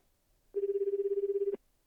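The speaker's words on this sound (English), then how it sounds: "Oh, phone." A phone rings in the video game Slow Damage: a single steady, pulsing electronic ring lasting about a second, clear and isolated against near silence.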